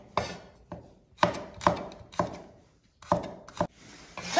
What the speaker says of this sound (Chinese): 将蒜呢也给它切成片